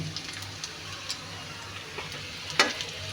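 Marinated malondi fish dropped into oil in a wok, a soft, even sizzle with light crackles and one sharp click near the end.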